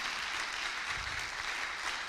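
A church congregation claps together in a steady, dense wash of applause that fills the room, moderately loud with no break.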